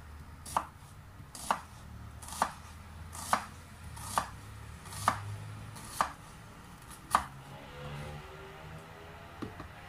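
Onion and garlic being chopped with a knife on a board, eight or nine evenly spaced, crisp thuds close by, steady and unhurried, with no talking.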